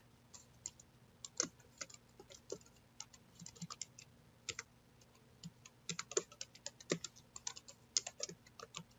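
Steady, irregular clatter of typing on a computer keyboard during data entry into a Microsoft Access order form, quick clusters of key taps with short pauses, close and fairly quiet, no voices.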